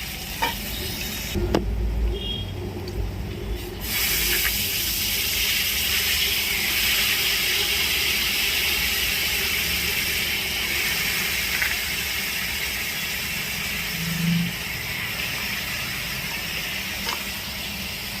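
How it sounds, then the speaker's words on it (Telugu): Cabbage, carrot, beans and potatoes frying in hot oil in a pan, giving a steady, loud close sizzle with occasional stirring scrapes, continuous throughout and without talk. "ఇప్పుడు క్యాబేజ్ క్యారెట్ కూడా ఫ్రై అయిపోయింది బీన్స్ ఆలు కూడా వేసుకొని ఫ్రై చేద్దాం"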